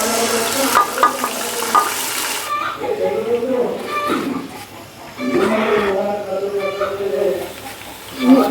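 Onion and garlic fry in a pan with steady sizzling and stirring scrapes, set under a speaking voice throughout.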